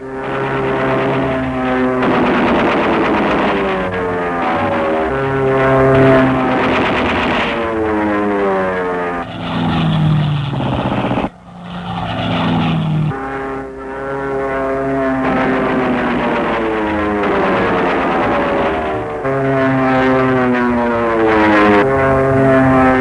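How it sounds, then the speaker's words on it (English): Propeller fighter-bomber planes from a 1953 fighter bomber wing peel off for a bombing run, their engines a loud, sustained droning roar with pitch rising and falling as aircraft pass close by. "As the planes peel off to make a run on the target"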